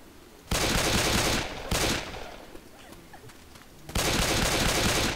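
A pistol loaded with incendiary ammo fires in a shooter video game, letting off three loud, close bursts of rapid shots separated by quieter gaps, with no talking.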